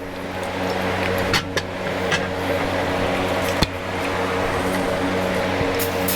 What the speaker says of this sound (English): Excuse the noise of the fan running.